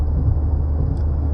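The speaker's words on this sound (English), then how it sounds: "makes the air intake much louder." Steady low rumble from a Chevrolet Cruze 1.4 turbo engine fitted with an aftermarket short-tube air intake, a constant close drone with a faint high whine above it and no talk.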